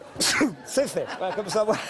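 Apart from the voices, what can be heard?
sneeze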